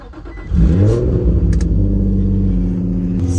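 A Nissan G35 engine revs hard after a short idle, jumping to a loud, close, throaty roar that holds steady with a deep rumble.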